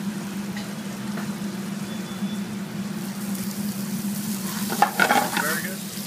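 Mushrooms, pepper and other ingredients fry in a pan, making a soft, steady sizzle with a low hum beneath it and a brief clatter of stirring near the end.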